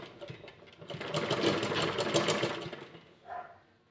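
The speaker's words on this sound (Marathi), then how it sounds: "त्यानंतर इथे शिलाई टाकायची आहे" A sewing machine stitches blouse pieces in one steady, close whirring run that slows and stops, followed by a brief final burst.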